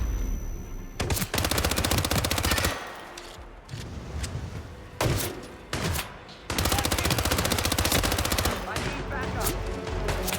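Bursts of blind gunfire from the Hitman stealth-action game, rapid automatic shots in dense clusters broken by short pauses, loud and close, with a voice talking briefly between volleys.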